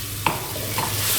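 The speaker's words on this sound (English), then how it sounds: "Stir and toss into the sauce carefully so you don't break or chop up the noodles." Cooked ramen noodles tossed in sauce for Thai drunken noodles sizzle steadily in a hot pan, with a couple of short stirring scrapes, close up and without talk.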